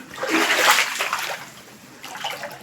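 Water from a pipe pouring into a rooftop tank, a loud splashing gush that swells then eases into a softer, steadier splatter and trickle, close by with no talk.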